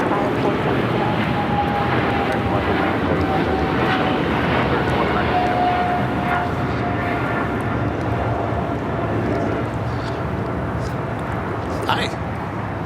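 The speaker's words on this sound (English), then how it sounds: "This American 777-300ER heading to London Heathrow." Boeing 777-300ER jet airliner of American Airlines at Los Angeles LAX, departing for London Heathrow: a loud, steady broadband engine roar fills the whole stretch without letup, with faint voices in the background.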